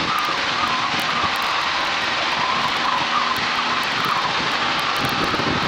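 A Zazo light sport aircraft engine roars at full throttle on the takeoff roll, a loud, steady propeller drone filling the cabin with no talk.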